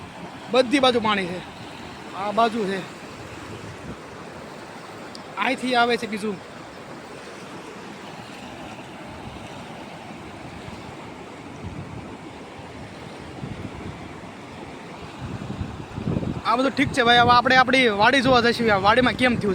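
A continuous roar of rushing floodwater from a broken village dam in Gujarat during heavy rain, in open air, with wind buffeting the microphone and people talking over it intermittently.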